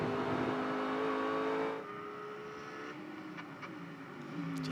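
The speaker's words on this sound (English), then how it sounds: "Just hear the little ch-ch into the brake zone there." A GT race car at Road America in a GT World Challenge race drops from a loud sustained engine roar to a quieter note as it brakes hard into a braking zone, then the engine builds again.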